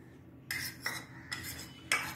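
Cornflour being whisked into water for a corn and egg soup, a spoon or whisk clinking against a bowl in four short, bright scrapes separated by brief pauses, close and fairly quiet with no voices.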